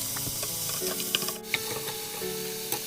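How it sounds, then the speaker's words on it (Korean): Seafood and mixed vegetables stir-fried in a hot pan for a seafood and tofu duruchigi, with a steady close sizzle and a few sharp clinks of a utensil against the pan. "겉면이 해물이 겉면이 익어가면 여기에 준비한 야채 모두 넣어서 볶아줍니다."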